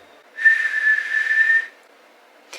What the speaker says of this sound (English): I didn't know how to whistle for a really long time, but I think I've mastered it.